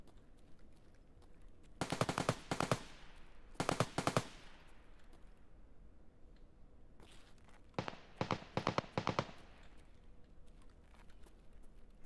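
Video game gunfire comes in several short automatic bursts, sharp and crisp, separated by quiet stretches with faint background ambience, the last cluster a quick series of staccato rounds.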